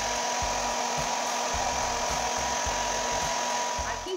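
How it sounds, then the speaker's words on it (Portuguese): A hair dryer blows steadily and loudly to soften the head of a Barbie doll, a constant airy whine with a faint rhythmic thumping beneath it and no talking. "E aqui está o grande secador, o amiguinho, pra amolecer ali a cabeça."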